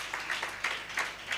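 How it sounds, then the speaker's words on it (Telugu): A church congregation claps together in a soft, rhythmic patter of hand claps, several quick pulses in a row, moderately distant and steady. "ఒకసారి చప్పట్లు కొట్టండి."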